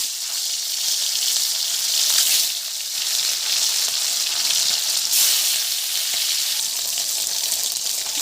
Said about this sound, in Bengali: সর্ষের তেলও দিয়ে দিয়েছি তেল গরম হয়ে গেছে আমি মাছগুলো এবার ভেজে নেব